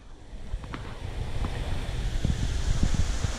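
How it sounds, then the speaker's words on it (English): Water gushes steadily out of a huge six-inch overflow pipe fed from a fish-farm sump, a loud continuous rushing roar that builds slightly and holds throughout. "So that water running out of there, that's the water change for that system."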